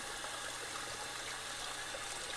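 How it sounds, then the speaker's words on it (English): Clean water pours steadily into a pan during kitchen quail cleaning, a faint, even hissing splash with no talk. "Put me some clean water in my pan over here."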